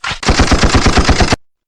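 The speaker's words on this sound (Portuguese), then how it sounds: "Um som de disparo de arma." A gunshot sound effect triggered from a button on a V8 sound card: a loud, close burst of rapid-fire shots in quick rhythm, like a machine gun, lasting just over a second before cutting off cleanly.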